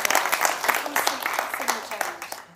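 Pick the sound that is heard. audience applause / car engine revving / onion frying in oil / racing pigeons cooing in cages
audience applause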